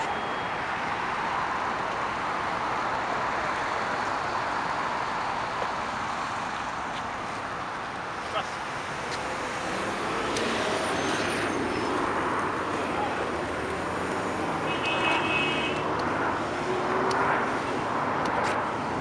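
Corsair Boeing 747 taking off in Montreal, a broad, moderately distant jet roar that swells and shifts as the aircraft rolls and climbs, with voices talking faintly nearby.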